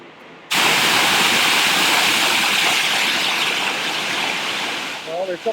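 Mountain waterfall in the Swiss Alps, a loud, steady broadband roar of rushing water that starts abruptly and continues close by, with a brief voice near the end.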